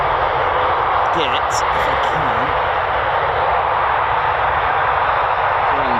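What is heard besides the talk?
Eurofighter Typhoon jet aircraft engines at RAF Coningsby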